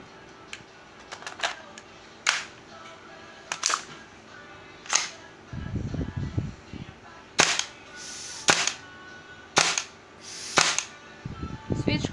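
WE Glock 18c Gen 4 gas blowback airsoft pistol fired in single, separated shots, each a sharp close crack with a snappy slide clack, spaced a second or two apart, with some low handling noise between.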